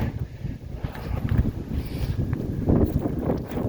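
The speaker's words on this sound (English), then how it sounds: "It's windy today." Gusty wind buffets the microphone, producing a continuous low rumble with surging bursts and no talking.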